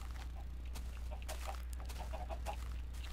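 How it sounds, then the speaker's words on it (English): Many chickens in the video game Minecraft cluck in a dense, overlapping chorus of short calls over a steady low hum, with no talking. "that's a lot of chickens."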